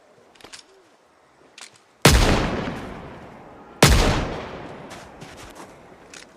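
Two loud, heavy gunshots boom from firearms in the zombie survival game Project Zomboid, about two seconds apart, each with a long decaying echo. Faint footsteps and small clicks are heard before and between the shots.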